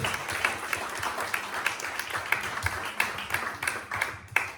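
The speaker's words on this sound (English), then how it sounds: "round of applause from both because they're both very, very talented" A talent show audience applauds with a faint, steady patter of clapping, scattered sharper claps standing out through the few seconds.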